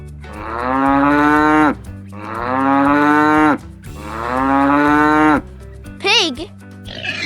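Three long, loud cow moos in a row, each lasting nearly two seconds with a short pause between, from a children's animal-sounds nursery rhyme, followed by a brief rising-falling cartoonish squeal at the end.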